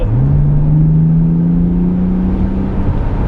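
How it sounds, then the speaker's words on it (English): A 2005 Bentley Continental GT revs up under acceleration, its deep, smooth exhaust note rising steadily and holding a throaty drone, close and loud with no talking. "And now you'll also hear the exhaust note."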